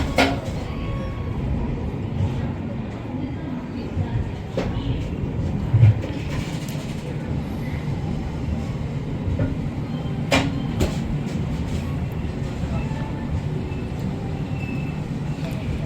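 Train 12952 pulling out of New Delhi railway station in the evening, with low rumbling rail noise, occasional clanks and wheel clatter, under background station ambience and faint voices.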